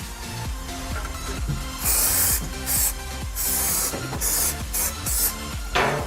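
AC Pro-Tech rust protection aerosol sprayed onto an AC coil in repeated loud bursts of hissing spray, with short pauses between them and a faint rattling, rubbing background.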